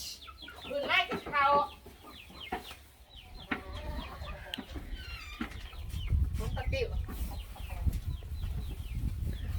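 Chickens at a rural Thai farmhouse cluck loudly and repeatedly, with a few rooster-like calls near the start, against steady low background rumble and some human talk mixed in.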